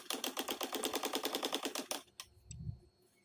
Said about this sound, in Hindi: अब हम सलवार के आसन की साइड पर ऐसे सिलाई करेंगे।